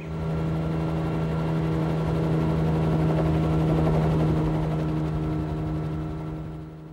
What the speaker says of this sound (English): Tough chopper ride, boys.